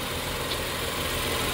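A 2013 BMW X5 3.0 xDrive with a hard-starting problem idles in a steady, even drone, close and continuous with no voices.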